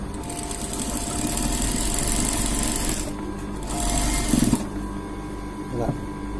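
A sewing machine runs steadily while stitching a boat-neck blouse, its motor whirring loud and continuous, pausing briefly and then starting up again.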